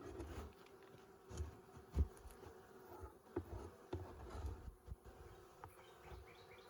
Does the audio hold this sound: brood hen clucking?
no